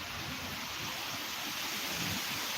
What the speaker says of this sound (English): it's raining real quick